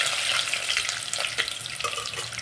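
Curry leaves and peanuts sizzle in hot oil with green chillies in a pan, a steady bright crackle with soft scraping stirs, close and continuous with no talking.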